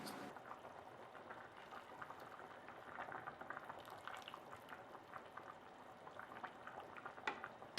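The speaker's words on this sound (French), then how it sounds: "laissez la soupe cuire pendant 45 minutes à feu moyen élevé" Pot of chorba soup simmering over medium-high heat, a steady quiet bubbling and popping with soft irregular blips, close and alone.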